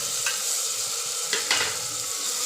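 Tomato, potato and toor dal fry and get stirred in a pan, giving a steady close sizzle with a couple of brief scraping stirs, with no voices.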